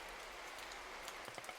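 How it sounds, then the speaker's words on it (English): A rain spell in the strategy game Age of Titans, a steady hiss of falling rain with a few sharper drop-like taps near the end, heard alone. "So the rain from purple goes off finally."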